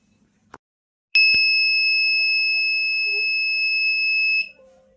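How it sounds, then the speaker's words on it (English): An electronic buzzer set off by a PIR motion sensor sounds a steady, piercing continuous tone for about three seconds before cutting off, preceded by a small click, loud and alone in a quiet room. "whenever the motion was detected by the PIR sensor, we got the buzzer on"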